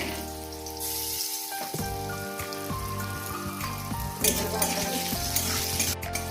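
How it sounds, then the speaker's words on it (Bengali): Potatoes frying in a pan of oil left from frying fish, with salt and turmeric, a dense steady sizzle and crackle close up, with occasional stirring scrapes and a faint background hum, no talk. "এই মাছ ভাজা তেলে আলুটা ভেজে নেবো।"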